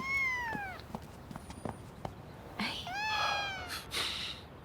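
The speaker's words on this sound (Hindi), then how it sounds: "आपने कभी बिल्ली नहीं उठाई?" A cat meows twice, drawn-out and close, with soft taps and clicks in the pause between the two cries in a quiet indoor room.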